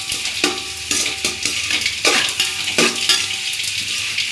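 Tomatoes sautéing with onions in a pan for a duck curry, a continuous sizzle broken by repeated scraping and clinking stirs of a utensil against the pan.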